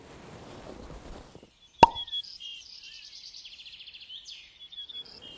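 Birds chirp and twitter outdoors in quick repeated phrases after a sharp pop, with faint rustling at the start and end.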